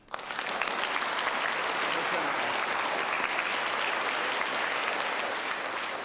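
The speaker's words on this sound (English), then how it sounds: "And another big clap." A school audience at a Somerville Primary School prize presentation bursts into a big round of applause, rising quickly into a loud, dense, sustained clapping that stays even for several seconds.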